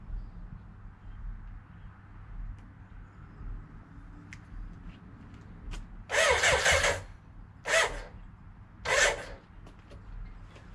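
BMW K100 motorcycle starter motor cranking in three separate bursts, the first about a second long and the next two shorter, over a steady low background hum with no engine catching.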